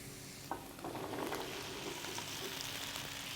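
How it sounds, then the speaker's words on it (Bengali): Okra being gently stirred as it fries in oil over low heat for a yogurt curry, a steady soft sizzle with light scraping strokes after a brief clink near the start. "ঢ্যাঁড়স বেশ আস্তে ধীরে নাড়তে হয়"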